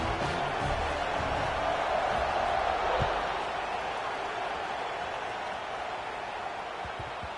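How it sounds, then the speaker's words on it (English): Stadium crowd noise at kickoff in the College Football 26 video game, a steady dense roar of cheering that holds at a constant loud level throughout, with no clear voices on top. "They're set to kick it off, and this crowd now ready to get behind them"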